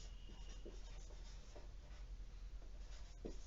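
A pen or pencil writes by hand on paper, faint scratchy strokes scattered over a steady low background hum, with no talk.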